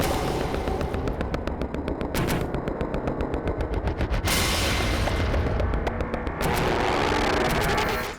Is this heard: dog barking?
no